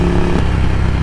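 A Ducati Scrambler Café Racer fitted with a Vance & Hines exhaust gives a loud, close, throaty engine rumble that shifts pitch partway through the short burst, with no one speaking.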